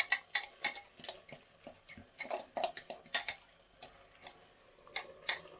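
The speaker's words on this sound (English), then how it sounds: "I'm just gonna stir this through." A spoon stirs homemade pasta sauce in a pan, making a run of light metallic clinks and taps in an uneven rhythm, close and quiet, thinning out near the end.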